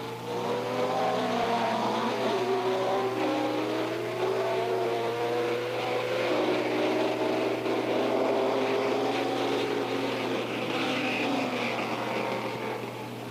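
A Formula One race car engine at the 1967 Canadian Grand Prix howls loudly and continuously, its pitch climbing and dropping as it revs through gears, with no voices present.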